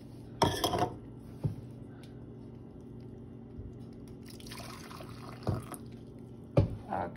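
Water poured for boiling while cooking scalloped potatoes, roughly one and a half cups, comes as a few short splashy pours separated by quiet gaps, close and fairly soft, with no talking.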